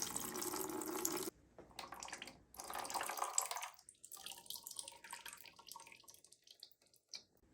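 Old coolant drains from a Sherco 290 trials bike, a close trickling stream of liquid that splashes steadily, then thins into a quieter, uneven dribble and drips.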